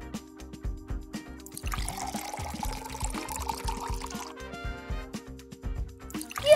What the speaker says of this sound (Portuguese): Despeje 100 ml de água na primeira garrafa.